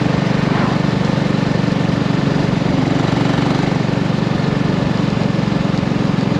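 BSA Rocket Goldstar motorcycle cruising in top gear at about 40 mph, a steady, loud low engine drone with wind noise that holds constant throughout without any talk.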